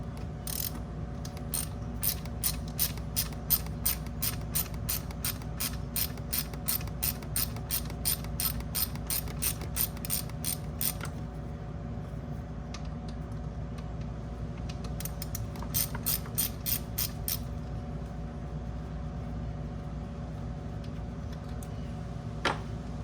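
A hand ratchet clicks in quick repeated bursts while bolts are backed out during a Turbosmart blow-off valve install on a 2.7 turbo engine, with two long runs of steady ticking and a shorter burst later over a low background hum.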